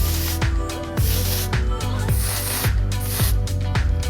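Rapid bursts from an aerosol dry texture hair spray on a mannequin, each short hiss repeating in a steady rhythm, close and loud, with no talking.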